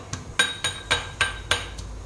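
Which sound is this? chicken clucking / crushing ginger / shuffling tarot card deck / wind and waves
crushing ginger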